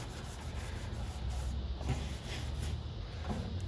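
Rust being scrubbed off a Char-Broil grill with The Pink Stuff cleaning paste: a steady, close, rough rubbing and scraping that runs continuously with no talk.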